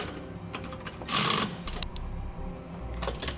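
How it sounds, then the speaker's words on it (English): A 19mm socket wrench ratcheting as it snugs down bolts on a trailer hitch receiver under a 2014 Jeep Wrangler, a rapid close clicking with a brief louder whirring burst partway through. "Now we'll use a 19mm socket and wrench, and we're going to get those 4 snug down."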